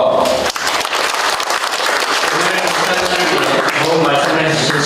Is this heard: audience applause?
yes